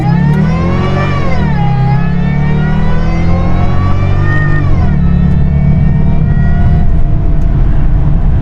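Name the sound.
sports car engine revving through gear shift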